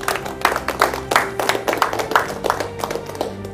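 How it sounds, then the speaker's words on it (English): Small audience of contestants applauds themselves after presentations in an eviction challenge, steady overlapping claps at moderate loudness with some voices mixed in. "So all of you did very well. Clap yourselves."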